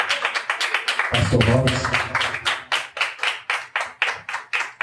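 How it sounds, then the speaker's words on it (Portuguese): A church congregation claps in praise during a worship service, a steady rhythmic beat of many hands that carries through the whole stretch while a voice speaks briefly over it. "As palmas louvam o nome do Senhor"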